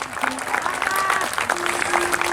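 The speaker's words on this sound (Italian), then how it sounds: "E che bell'applauso!" Audience applause after a singer is introduced at an outdoor Italian orchestra concert, a steady sustained clapping from a crowd with some faint tonal music or voice traces running through it.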